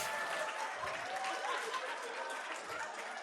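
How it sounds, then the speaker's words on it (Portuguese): Audience applause at a motivational talk show in Brazil, a steady wash of many hands clapping from a sizeable crowd, heard somewhat distant with faint murmurs mixed in. "Salva de palmas para ele!"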